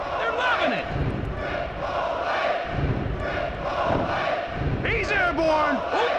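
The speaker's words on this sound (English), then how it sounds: "Check out this crowd. They're on their feet. They're loving it." A packed arena crowd roars and cheers nonstop in a retro wrestling video game featuring Stone Cold. It is loud and dense throughout, with shouts and whoops rising out of the din.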